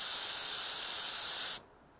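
A spray gun paints a 1991 Mercedes 420 SEL outdoors on a windy day, giving a steady close hiss for about a second and a half before cutting off sharply into near silence.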